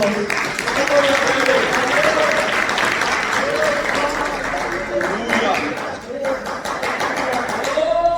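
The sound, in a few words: clapping in church praise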